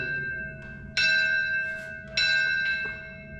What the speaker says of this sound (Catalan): tantes campanes com sonin